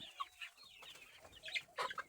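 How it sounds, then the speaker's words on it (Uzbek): A broiler hen sitting on eggs clucks softly in a quiet coop, with a run of low, close, faint clucks and murmurs. "Qushimiz o'sha tuxumga kirdi"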